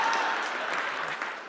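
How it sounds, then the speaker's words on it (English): Applause from an audience at a stand-up comedy show, fairly faint and fading slightly over a brief moment. "I didn't expect that applause."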